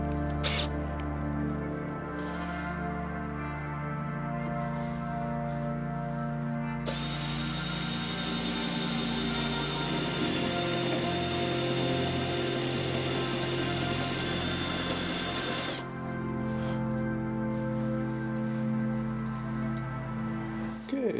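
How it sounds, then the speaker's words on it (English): A hand-held power drill cuts a slot into a plate for a DIY serving trolley, its whine steady and close with a higher-pitched strained stretch in the middle, starting and stopping with short pauses. "here I would like to drill this slot for this plate"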